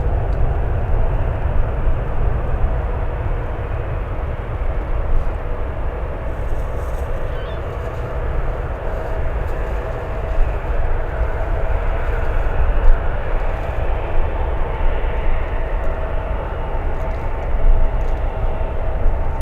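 An Aer Lingus jet airliner departs San Francisco airport, its engines a loud, sustained broadband roar that holds steady throughout, heard from a distance.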